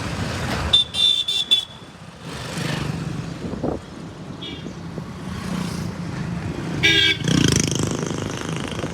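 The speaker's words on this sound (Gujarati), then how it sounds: "ટ્રાફિક છે ને અત્યારમાં ફૂલ છે" Heavy road traffic in Botad with passing cars and motorcycles, several short horn toots and a longer honk cutting through a steady engine rumble, a tractor moving somewhere nearby.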